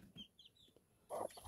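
A hen clucks softly among newly hatched chicks, with faint high chick peeps early on and a louder, close burst of clucking near the end.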